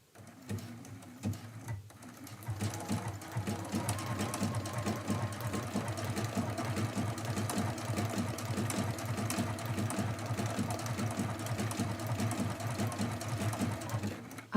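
A sewing machine runs steadily while stitching a quilt, a loud continuous rapid mechanical chatter that starts after a brief quiet moment and holds an even pace throughout.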